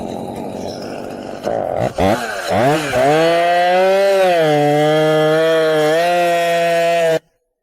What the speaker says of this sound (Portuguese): Se eu destravar a motosserra, liberou a corrente.